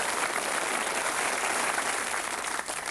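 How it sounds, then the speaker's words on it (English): A studio audience at a 1990 snooker event gives dense, steady applause that stays loud throughout and tapers slightly at the very end. "let's have some applause, shall we, ladies and gentlemen, for our world champion and the runner-up."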